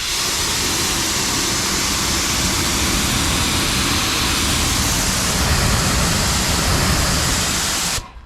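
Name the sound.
water hose rinsing a ceramic-coated car hood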